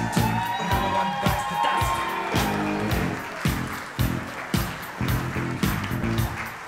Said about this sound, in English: Let's get a huge round of applause going for parents of the groom tonight